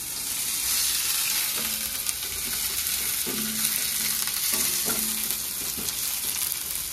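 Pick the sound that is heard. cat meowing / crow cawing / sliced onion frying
sliced onion frying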